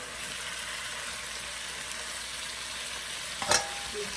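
Fish masala fries in a pan after ginger-garlic paste and ground coriander and cumin are added. A quiet, even sizzle runs throughout, and near the end comes a short stirring clatter.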